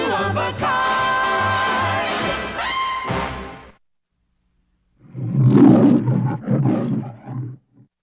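A person makes a loud, throaty growling roar in imitation of a hungry hippopotamus, in rough bursts after a pause that follows a stretch of music.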